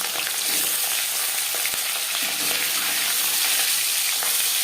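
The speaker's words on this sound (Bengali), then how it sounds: "4 চামচ রিফাইন্ড অয়েল গরম করে নেওয়ার পর দিয়ে দেবো ম্যারিনেট করে রাখা মাছ।" Marinated katla fish fries in hot refined oil, giving a loud, steady sizzle and crackle that runs unbroken and close up, with a couple of brief pops and no voices.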